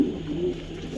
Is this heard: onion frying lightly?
no